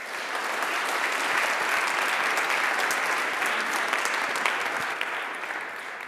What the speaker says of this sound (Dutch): Dus graag een applaus voor Arjen Klein-Heerenbrink.